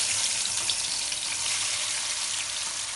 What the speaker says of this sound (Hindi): लहसुन और हरी मिर्ची सर्विंग के टाइम हमारे काम आएंगी, तो हम इसको फ्राई करके पहले ही रख देंगे।